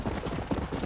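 Horse hooves galloping in the video game Red Dead Redemption, a rapid rhythmic clip-clop that is steady and fairly close throughout the brief moment.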